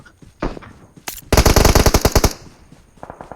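Gunfire in the PUBG Mobile game: a single shot, then a loud rapid burst of automatic fire lasting about a second, with faint scattered shots trailing after.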